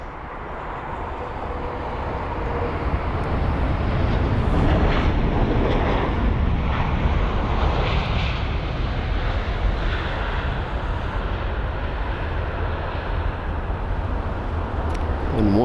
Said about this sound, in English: this is the Virgin Atlantic A350 1000 from Miami